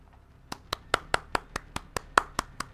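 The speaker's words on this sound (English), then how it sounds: "Clap for you, buddy." A single pair of hands claps about eleven times in a brisk, even rhythm, each sharp slap close and distinct against a quiet background during a Call of Duty Modern Warfare gunfight session.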